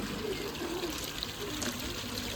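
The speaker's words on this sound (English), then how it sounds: "I can pour it in the pond easier." Liquid pouring steadily into a garden pond, a continuous soft splashing trickle with no voices.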